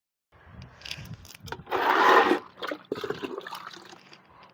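Water is poured from a container onto potted plants, splashing and gurgling in bursts, loudest in one long central pour, with quieter trickles and handling noises around it.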